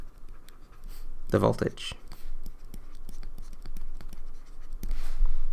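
Pen writing an answer on a physics exam paper, a short burst of scratchy strokes near the start followed by fainter scratches, with a person speaking over it.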